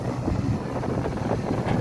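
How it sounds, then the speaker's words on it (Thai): Strong wind buffets the microphone at an outdoor event in Buriram, a steady low rumbling roar that holds for about two seconds with no talk. "โอ้ดูลม เขาเยอะอยู่นะครับตรงนี้"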